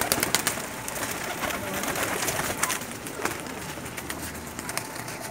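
Pigeons coo softly and repeatedly in a loft, with overlapping low throaty calls and occasional wing flutters close by, and no voices over them.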